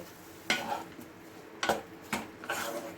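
A spoon scrapes and clatters against a cooking pot as spices for a low-calorie biryani with potato and soybean are stirred and sautéed, four distinct close scrapes over a faint frying sizzle.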